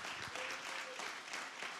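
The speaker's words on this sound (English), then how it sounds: "Give yourselves a big round of applause" Audience applause at a ward aldermanic candidates forum, a dense, even clatter of many hands clapping, steady and fairly faint throughout, with no voices over it.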